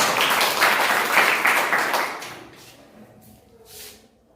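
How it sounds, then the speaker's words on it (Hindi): A classroom of young children bursts into brisk, loud group applause lasting about two seconds, then the clapping fades quickly into a quieter room. "तालियां।"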